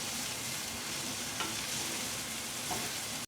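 Finely chopped vegetables and curry leaves sautéing in a pan, a loud dense sizzle that runs continuously for a few seconds, with faint stirring scrapes and no voices.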